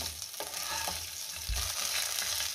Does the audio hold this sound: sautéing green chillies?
yes